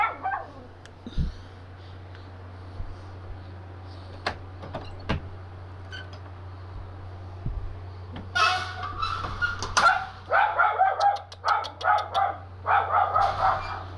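Scattered knocks and clicks give way to a dog barking repeatedly, a rapid, fairly close run of barks through the second half over a steady low hum, with no speech.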